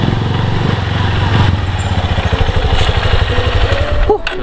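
A new motorcycle engine runs close by with a steady, throbbing idle that pulses and rises slightly, ending with a short clunk.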